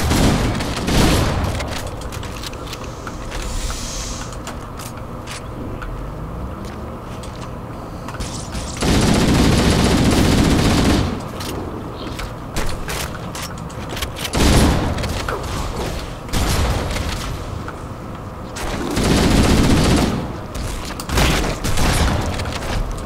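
Rapid automatic gunfire and heavy booming shots from a Halo: Combat Evolved firefight, loud and continuous with several dense bursts spread across the stretch.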